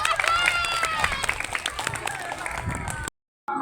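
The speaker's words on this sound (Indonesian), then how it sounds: "Tepuk tangan buat Bu Siki." Audience applause at a Friday healthy shared-meal gathering at an Indonesian state elementary school: clapping mixed with lively crowd voices, fairly close, then cutting to a brief silence near the end.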